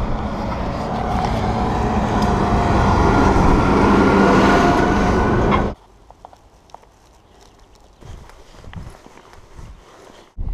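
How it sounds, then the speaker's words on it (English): A tractor roars loudly past on a narrow country road near Withypool on Exmoor, the heavy engine noise dominating for several seconds before cutting off abruptly, leaving quiet rustling and footsteps. "I'm about to get run over by a tractor"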